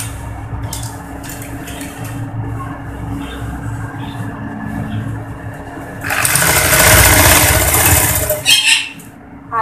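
A sewing machine stitches the side seam of a ladies' pajama pant. A low hum with light clatter gives way to a loud, fast, sustained run of stitching near the end, close by, then stops abruptly.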